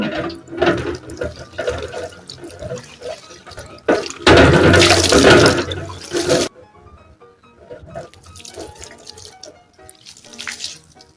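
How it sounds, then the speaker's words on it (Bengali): Very cold water splashes and pours during a late-night bath, with intermittent trickles and drips, then a loud sustained gush of poured water lasting a couple of seconds before quieter splashing resumes. "প্রচন্ড ঠান্ডা জল প্রচন্ড ঠান্ডা এই ঠান্ডায় আমি স্নান করছি"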